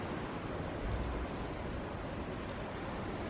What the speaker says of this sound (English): Amazing hearing the sea out there, isn't it?